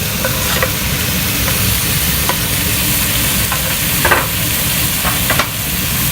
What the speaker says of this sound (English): I'm going to kind of fry the spices with the tomatoes so that they mix